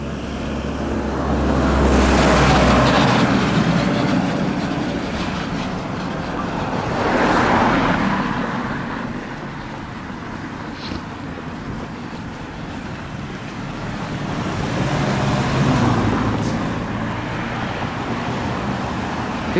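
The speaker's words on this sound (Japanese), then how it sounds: "結構ね、交通量多い。" Road traffic passes beside Mizoro Pond, with three vehicles swelling up and fading away in broad, whooshing waves over a constant outdoor rumble.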